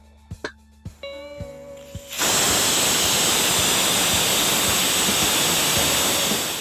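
A pressure cooker full of mutton curry lets off steam: after a couple of seconds of faint clinks and tones, a loud, steady hiss bursts out and keeps blasting for the rest of the clip.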